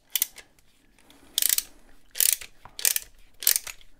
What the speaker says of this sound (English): I'm going to take a 19 millimeter ratchet and tighten this down